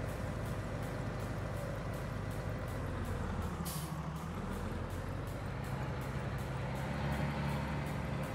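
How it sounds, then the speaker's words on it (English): A tractor in Farming Simulator on the Harsefeld map with a steady engine drone and a short sharp air brake hiss partway through. "we've got air brake noises on this tractor"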